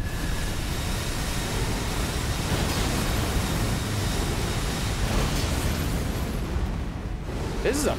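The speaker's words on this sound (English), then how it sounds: "There's a waterfall." A waterfall in the Elden Ring: Shadow of the Erdtree expansion gives a constant, full roar of rushing water that fills the whole stretch without letting up, with no voices over it.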